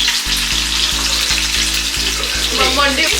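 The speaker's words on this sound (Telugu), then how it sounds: "కాలీఫ్లవర్ ఫ్రై చేస్తున్నాము." Cauliflower fries loudly in hot oil in a pan, a steady close crackling sizzle that runs throughout, with a low hum underneath and no speech.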